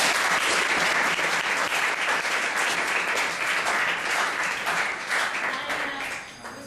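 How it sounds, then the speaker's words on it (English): Loud, dense applause from an audience after a world schools debating championship round, continuous clapping that holds steady and begins to taper off near the end, no talking. "I'd like to give another round of applause for you guys for such a good job."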